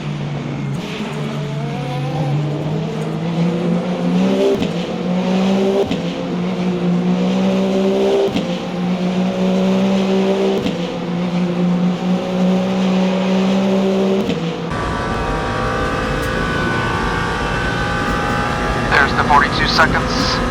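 Endurance race cars in Le Mans Ultimate approach a chicane on the Mulsanne Straight at the 24 Hours of Le Mans, loud engines droning and shifting through gears while they brake and downshift. A commentator talks over them throughout.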